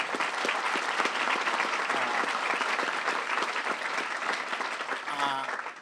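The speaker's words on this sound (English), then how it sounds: "Let's give them a round of applause." Audience applauding school board members at a superintendent's event in East Baton Rouge Parish, a steady, dense clapping that holds loudly for about six seconds before tapering at the end.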